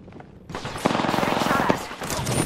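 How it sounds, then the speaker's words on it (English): Rapid automatic gunfire in the battle royale game Apex Legends, a sustained loud burst of shots with sharp rattling bursts over game sound effects. "Opening fire."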